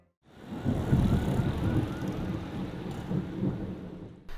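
A thunderstorm with rain: a low rolling rumble of thunder swells after a brief silence and churns on over steady rainfall, fading slightly toward the end with a final small surge.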